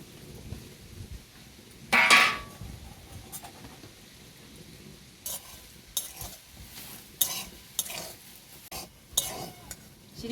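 Crumbled chhena, fresh curd cheese, is stirred in a kadai while sandesh is made from milk powder. A loud scrape comes near the start, then intermittent scraping and clinking of the spatula against the pan follows at an irregular rhythm, close and fairly quiet.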